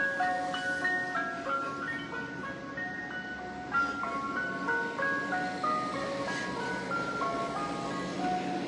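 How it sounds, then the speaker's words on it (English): An ice cream truck jingle plays steadily for several seconds, a bright repeating melody from a truck near a roundabout, moderately loud with faint road noise beneath and no talking. "oh, there's an ice cream truck"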